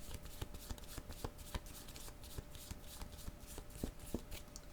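Oracle cards are shuffled by hand for a reading, producing a quiet run of crisp, evenly spaced riffling taps and flicks against a faint steady hum.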